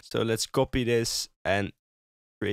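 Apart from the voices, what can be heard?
No everyday noise stands out behind the speech.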